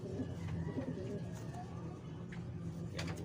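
Pigeons cooing softly in a loft, low murmuring calls repeating close by under faint background noise, with a pure white pigeon nearby.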